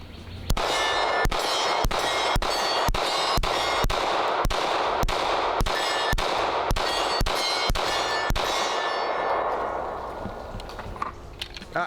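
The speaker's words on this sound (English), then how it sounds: "I'm gonna go just shoot this thing again." A CZ Shadow 2 Carry compact competition pistol fired outdoors in a fast string of about fifteen sharp, loud shots at a steady, rapid rhythm, each with a ringing report, before the echo fades into quiet.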